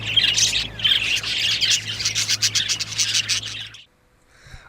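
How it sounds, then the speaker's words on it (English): Birds in a small aviary on a well-kept hillside squawk and chirp loudly and densely, a harsh overlapping chorus that stops abruptly near the end. "it's full of birds."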